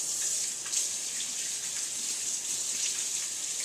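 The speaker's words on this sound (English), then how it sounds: "First, you're going to want to wash your hands." Hands are washed under a running tap, making a steady hiss of flowing water throughout with faint splashes. It sounds close and continuous, and nobody speaks.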